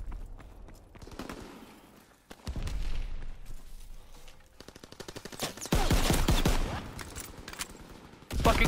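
M1 Garand rifle fire in a WW2 video game, with several bursts of sharp shots and booming impacts among louder clusters of gunfire, against a busy game background.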